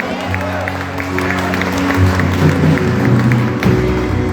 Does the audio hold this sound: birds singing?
no